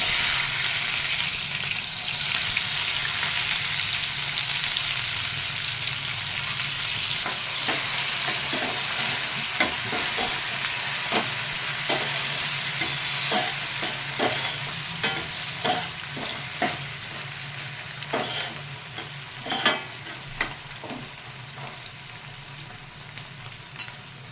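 Onions fry in a pan of tempering spices for a tomato pacchi pappu curry: a constant hiss of sizzling oil, broken by scraping and clinking stirs that grow more frequent over the second half.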